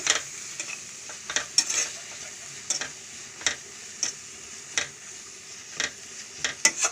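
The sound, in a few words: spices frying in a pan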